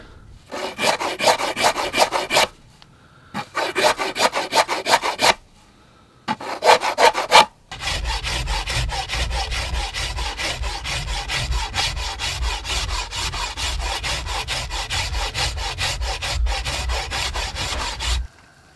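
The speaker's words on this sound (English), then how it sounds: "So I just take the rasp and I roll that edge." A rasp works along the edge of a yew wood bow in close, loud, rhythmic scraping strokes, first in three short bursts with pauses, then one long continuous stretch of rasping.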